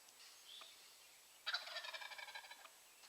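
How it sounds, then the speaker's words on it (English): A wild turkey gobbler gobbles once from across a construction site near a tree line, a loud rattling burst heard outdoors at moderate distance with faint bird chirps before it. "I just heard a second gobbler."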